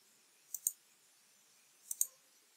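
A computer mouse clicks in MS Word, two quick double-click pairs about a second and a half apart, crisp and close in a quiet room with no talk.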